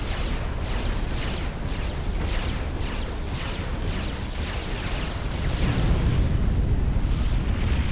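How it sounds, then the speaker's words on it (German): Explosions in the real-time strategy game Supreme Commander: Forged Alliance roll together in a dense, continuous rumble of repeated booms and bursts, loud and unbroken, with no talk. "Der wird jetzt hier explodieren."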